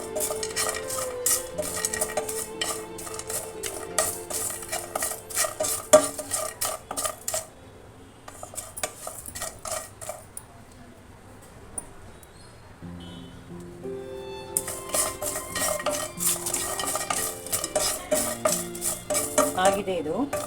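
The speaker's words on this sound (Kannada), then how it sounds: "ಪುಡಿ ಮಾತ್ರ ಯಾವಾಗಲೂ ಪೇಷನ್ಸಿಂದ ಸಣ್ಣ ಉರಿಲೇ ಹುರಿಬೇಕು" A utensil scrapes and stirs biryani masala powder as it dry-roasts in a pan over low heat, in long stretches of busy scraping broken by a quieter pause in the middle.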